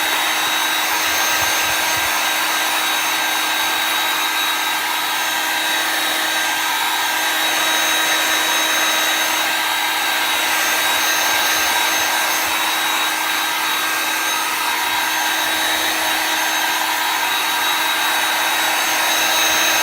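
A handheld hair dryer blows steadily on chalk paste spread over door decor, a constant close whooshing roar with a faint high whine that runs unbroken the whole time with no talk.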